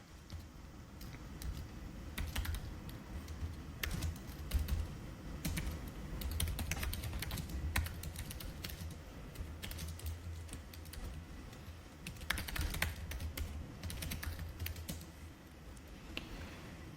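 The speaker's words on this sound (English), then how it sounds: "I will type something like" Steady typing on a computer keyboard, a run of quick, irregular key clicks and occasional louder taps at close range, quiet and unaccompanied by speech.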